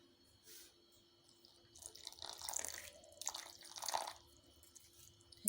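Water poured into a bowl of cornflour batter with salt and green chillies, a soft splashing trickle that builds over several seconds, close and fairly quiet.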